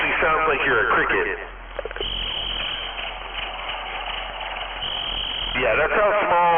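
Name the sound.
cricket chirping sound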